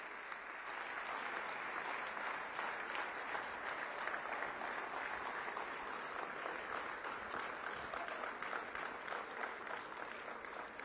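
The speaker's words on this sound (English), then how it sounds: "arendra Modi ji, the architect of New India, for his address with a thunderous round of applause." A large summit audience at a Global Ayush Investment and Innovation Summit applauds the Prime Minister of India in a steady, dense wash of clapping that continues for about ten seconds, distant and hall-filling, with no speech over it.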